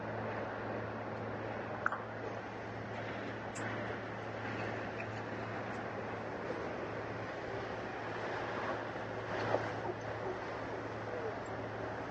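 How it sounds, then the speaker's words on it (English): Steady broadband rush of water streaming past a moving boat's hull near Charleston, with a constant low engine drone underneath and faint voices in the background. "sounds of water going by on the side"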